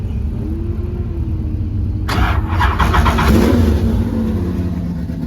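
A race car engine, set in neutral after a fuel pump prime, cranks and fires at a racetrack, catching abruptly partway through and settling into a loud, close, rumbling run with revs rising and falling.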